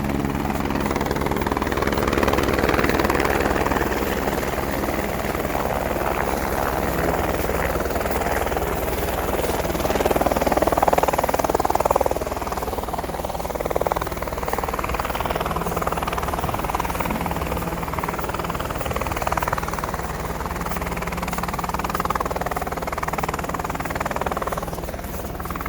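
A search and rescue helicopter's steady rotor thrum and engine drone, fairly loud and continuous, swelling slightly as it passes over a hiking area.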